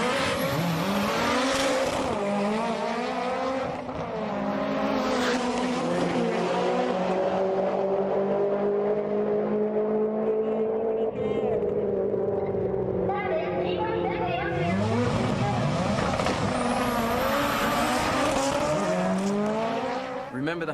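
Two Mitsubishi Lancer Evolution drag cars running HKS 3240 turbos at a Sendai JDM drag event, engines revving and climbing through gears with tyre squeal, loud and close, while a voice talks over the roar.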